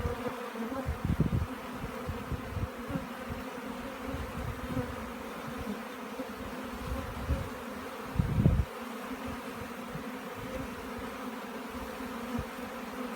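Honeybees hum steadily in an opened hive, a dense low buzz from many insects close by that swells briefly now and then, with no voices.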